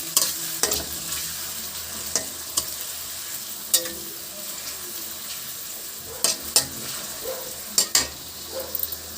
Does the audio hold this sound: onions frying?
yes